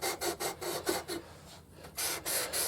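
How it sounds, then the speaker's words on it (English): Sandpaper rubbing across guitar frets, repeated back-and-forth rasping strokes in quick rhythm, close and moderately loud, with a brief pause near the middle. "when you're sanding one way, you're putting scratches in it this way"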